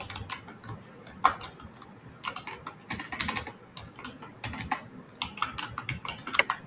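Computer keyboard typing while text is entered into a web form field, with irregular bursts of quick, close keystroke clicks and a few sharper taps, and no talking.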